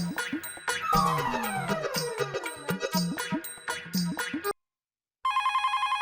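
An old-style telephone bell rings over a jangly musical score in a sitcom scene, then after a brief silence a steady electronic ringing tone repeats in quick even pulses.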